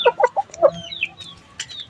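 Hens cluck in a backyard chicken coop: a few quick, close clucks come first, then softer scattered chirps and murmurs.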